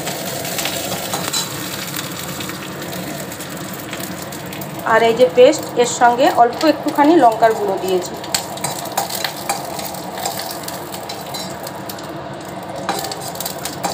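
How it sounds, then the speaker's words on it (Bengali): Curry leaves and a spice paste with chilli powder frying in mustard oil in a kadai, a steady sizzle with a burst of louder spitting crackles and stirring midway, while someone talks over it. "একটুখানি ভাজা ভাজা হয়ে যাক।"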